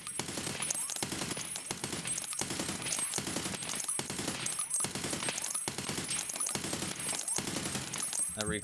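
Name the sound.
gunfire from a weapon in a video game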